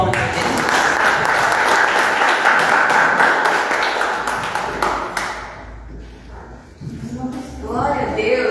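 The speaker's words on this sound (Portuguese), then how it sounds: "Uma salva de palmas para Jesus." A church congregation applauds loudly in a sustained burst of dense clapping that fades out after about five seconds, with voices coming back in at the end.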